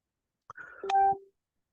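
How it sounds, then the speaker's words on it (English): A phone notification dings, a short bright tone ringing out over a faint mechanical sound in otherwise quiet surroundings. "Oh, my phone's dinging for some reason."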